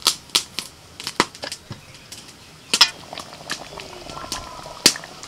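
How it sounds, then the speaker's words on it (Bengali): Chicken makhani simmers in a pan, giving scattered soft pops and bubbling ticks with an occasional light clink, close and fairly quiet. "চিকেনটা ফুটতে শুরু করে দিয়েছে"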